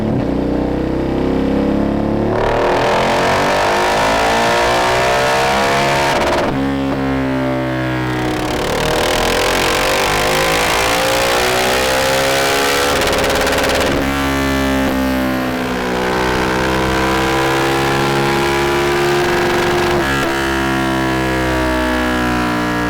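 A Husqvarna 701 single-cylinder motorcycle engine, Euro 4 model, revving on a dyno, rising through repeated loud sweeping runs with brief drops between them, steady and close throughout.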